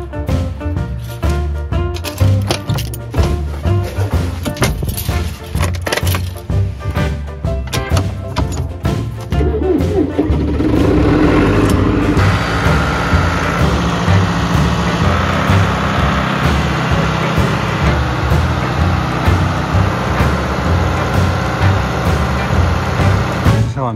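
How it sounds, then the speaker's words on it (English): Tractor engine running at a barn building site, a loud close diesel drone that starts with uneven thumping and clatter, then settles into a steady roaring engine note, no talk. "I think we're going to need the tractor."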